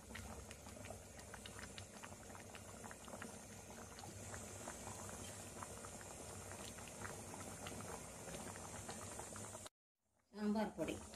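A pot of moong dal sambar simmers with a dense, steady bubbling and popping close by, cut off briefly near the end before a louder clatter returns.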